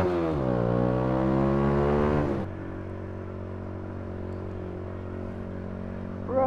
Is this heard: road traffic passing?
yes